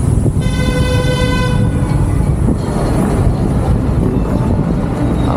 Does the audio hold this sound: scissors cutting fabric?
no